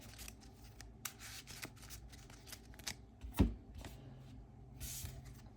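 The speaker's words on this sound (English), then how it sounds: "Shuffle this into our deck." Playing cards from a Marvel Champions game deck being shuffled at close range, with a run of soft riffling bursts and light slaps, plus one sharper knock midway; no one speaks.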